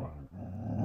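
A dog growls and barks at a bear at a campsite, a single short, low, throaty burst heard close and fairly quiet, with no talking.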